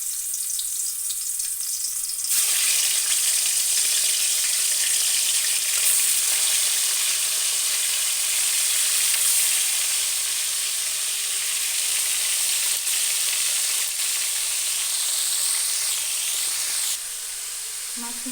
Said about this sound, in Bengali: মাছগুলোকে দেখো ভাজতে বসিয়ে দিয়েছি, বেশ কড়া করে ভেজে নেবো।